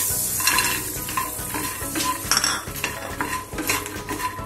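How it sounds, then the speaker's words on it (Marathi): Roasted makhana (fox nuts) tumbling into buttered pan and being stirred, light rattling and spoon scraping against metal over a gentle sizzle, close and steady. "मग आपण हे मखाने टाकणार आहोत."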